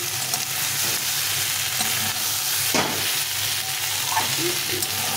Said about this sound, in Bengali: এই ফুলকপি আলুটা ভালো করে কষিয়ে নিয়েছি